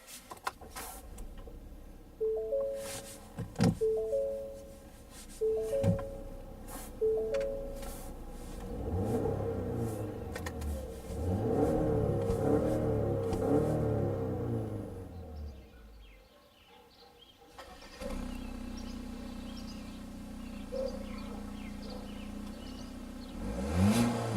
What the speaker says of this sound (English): Alright, let's see how the car sounds.